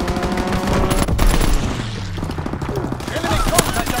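Rapid machine-gun strafing fire from an aircraft in a multiplayer war game, dense rattling bursts and impacts under radio-style voice callouts and game chatter.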